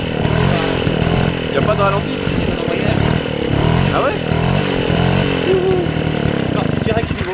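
Motobecane D45 moped engine running loud and close, a buzzing two-stroke drone that rises and dips unevenly as it fails to hold idle, with voices speaking over it.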